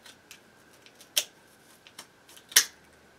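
Sharp scissor snips through nine thin strips of ribbon at once, two crisp cuts close by in a quiet room, with faint rustling and small clicks between them.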